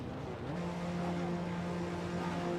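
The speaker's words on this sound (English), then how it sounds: "You can hear them revving the engines in the background." Several race car engines idle and rev together on a starting grid in a GT3 racing video game, a steady close drone with rising and falling pitches and no talking.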